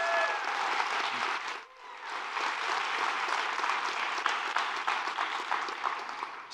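Audience at a tech summit opening keynote breaking into sustained applause, a broad, dense wash of many hands clapping that dips briefly and then swells again, continuing steadily with no speech on top.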